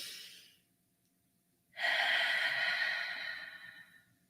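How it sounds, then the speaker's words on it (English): During guided prayer, a long, deep breath is drawn in close to the microphone. It is a loud, airy rush lasting about two seconds and fading slowly, with a softer exhale heard briefly before it. "let's just take a deep breath in"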